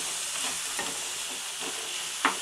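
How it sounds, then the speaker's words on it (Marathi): Tomatoes frying in a pan for goat brain fry, a soft continuous sizzle with faint stirring scrapes and one sharp clink near the end, fairly quiet and close. "मस्त नरम होईपर्यंत टोमॅटो तळून घ्यायचं"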